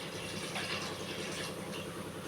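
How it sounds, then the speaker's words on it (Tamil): Water poured into a pot of vegetable biryani, a steady splashing gush running without pause, close and moderately loud. "இந்த தண்ணியை ஊற்றிக்கலாம்."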